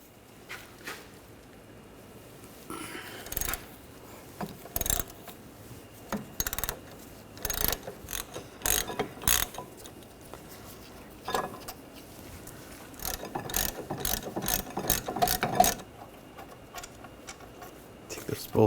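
A ratchet with a 13mm socket cranks out the brake caliper bracket bolts on a 2013-2019 Ford Escape's rear brakes, giving irregular bursts of sharp clicking separated by pauses, with occasional background noise.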